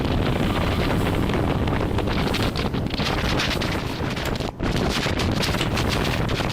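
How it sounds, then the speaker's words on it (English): Heavy wind buffeting a motorcycle rider's microphone on a blustery day, a loud continuous roaring rumble with gusty fluctuations and a brief dip, drowning out everything else with no talk. "Certainly very windy today, so you'll probably hear a bit more wind noise in the background on the audio"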